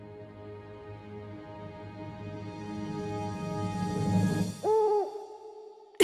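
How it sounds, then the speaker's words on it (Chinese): A cartoon owl from an animated children's show hoots at night: a rising tonal build-up gives way to a single clear, close hoot near the end, with no talk. "只是一只嘟嘟猫头鹰， 它们晚上就是会发出这种声音。"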